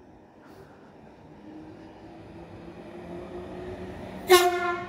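A Z 20500 Transilien commuter train on the RER D at Maisons-Alfort rumbles past steadily, then gives a short, loud horn blast near the end.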